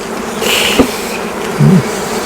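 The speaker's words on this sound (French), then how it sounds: "il y a les petites abeilles, puis là, c'est un mâle" Honey bees buzz around an open beehive, a close, steady insect drone with individual bees swelling louder as they pass near.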